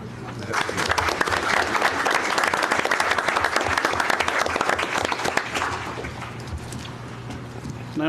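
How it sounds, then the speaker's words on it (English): A room full of people at a county commission meeting breaks into a loud round of applause, sustained clapping that tapers off near the end, with a low voice murmuring underneath. "I think you deserve a big round of applause."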